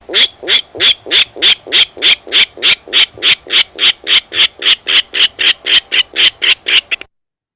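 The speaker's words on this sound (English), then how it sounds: "the grunt call of the Virginia rail is a series of kind of harsh notes." A Virginia rail's grunt call plays as a long, steady series of about twenty harsh, evenly spaced notes, loud and close, with no voices over it.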